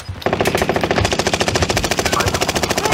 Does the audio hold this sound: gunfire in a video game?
yes